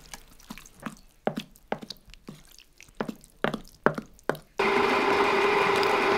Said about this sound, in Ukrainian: почали перемелювати підсмажену кров